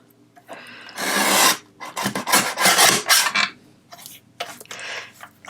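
A paper trimmer slices through paper in several rasping strokes of varying length, close and fairly loud, separated by brief pauses with no talk.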